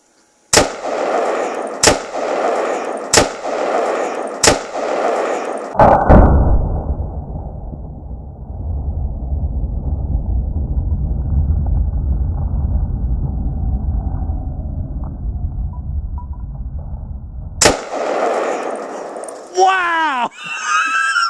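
CO2 bottles burst in a bucket outdoors: several loud, sharp bangs in quick succession, then a long hissing rush and one more close, violent pop, with excited voices around.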